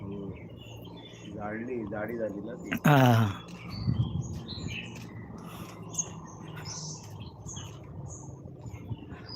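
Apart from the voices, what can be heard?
birds chirping at a village water spot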